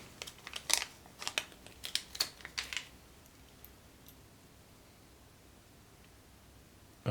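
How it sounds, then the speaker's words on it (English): New headphones being unwrapped from plastic packaging, heard as a quick run of close crinkles and sharp plastic crackles for about three seconds, followed by near silence. "Just need to unwrap them."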